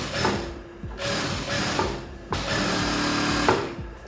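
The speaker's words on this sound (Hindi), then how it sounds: "तो यहाँ पे हम एक डबल सिलाई लगा लेते हैं इस तरीके से।" A sewing machine runs double stitching along a corset bra, its motor whirring in bursts that start and stop several times, close and steady with no talking.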